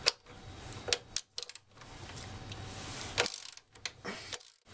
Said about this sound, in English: What you're going to do on either side is just remove these two bolts right here, and we'll do that right now.